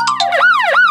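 Police siren imitated by a voice, a loud close wailing tone rising and falling in two sweeps, with no other talk.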